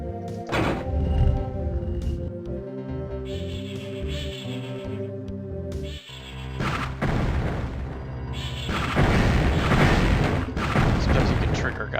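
Gunfire and monster sounds from the first-person fantasy shooter Heretic, heavy booming thuds and crashes over a continuous synth music score, with denser, louder blasts in the second half.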